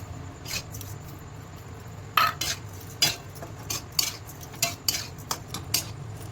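A metal spoon scrapes and clinks against a pan while sugar is stirred into chana dal halwa. The knocks are sharp and irregular over a low steady background hiss, close up, with no talking.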